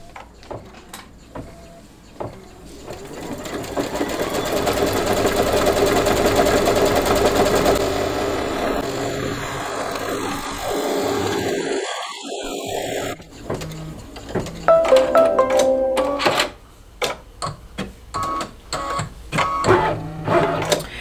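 Single-needle home embroidery machine stitching a placement line, a rapid steady whirring rattle of the needle that speeds up and then slows, with pauses, clicks and trimmer clacks near the end, close and clear with no talking.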